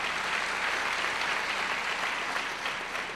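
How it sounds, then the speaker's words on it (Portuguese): A church congregation applauds, a dense, continuous wash of many hands clapping at steady loudness for a few seconds, with no voices standing out. "aplauda o Senhor pela vida do Glauber"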